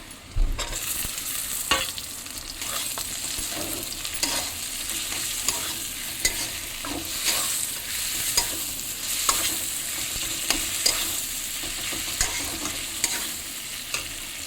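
Tomatoes stir-fried in a pan for a spicy bele fish curry: a steady close sizzle with scraping stirs and soft clinks of the spatula running throughout, with no talking.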